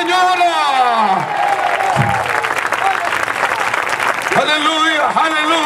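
A church congregation applauds at a Bible Day service, with sustained crowd clapping under a preacher's drawn-out, sung-like exclamations.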